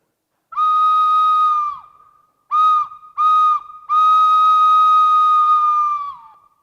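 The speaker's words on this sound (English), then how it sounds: "Now I had to sound the whistle to correct number of times" A loud, steady boat whistle sounds four times: one long blast, two short ones, then another long blast, with no other sounds around it.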